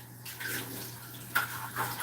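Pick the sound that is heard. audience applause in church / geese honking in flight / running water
running water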